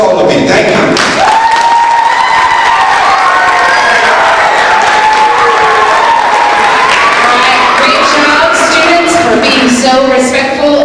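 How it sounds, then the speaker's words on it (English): A crowd at Wiggins Elementary, an elementary school, claps and cheers loudly and continuously, with children's shouts and whoops rising over the applause throughout. "How about a hand for Wiggins Elementary?"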